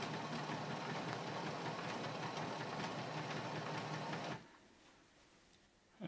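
An Epson ET-8550 ink tank printer grinding and whirring steadily during its first setup after unboxing, a close mechanical drone for about four seconds that then drops to near silence.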